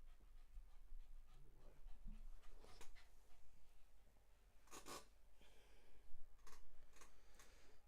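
A dog pants and snorts softly nearby with faint whimpers, quiet breathy bursts coming in an uneven rhythm with no talking.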